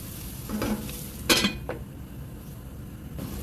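Seasoned potato mixture with salt and black pepper, for a potato casserole with bacon, sizzling in a pan under a few quick stirring scrapes and a sharp utensil clink against the pan.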